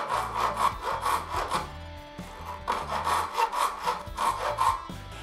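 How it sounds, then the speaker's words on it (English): Repeated back-and-forth strokes of a small file rasping off the rest of a cut-through tang on a Firebird guitar build, steady rhythmic rubbing in two bursts with a short pause between, close and fairly loud. "I'll just take a small file and file the rest of that off."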